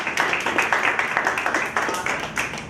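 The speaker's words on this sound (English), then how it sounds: "Give a round of applause for Victor." Short burst of audience clapping at a community candidate meeting, with distinct close individual claps in a quick uneven rhythm, a small group rather than a large crowd.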